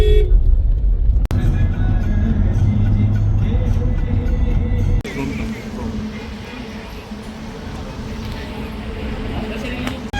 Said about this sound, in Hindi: इधर ट्रैफिक चालू हो गया है मुंबई में।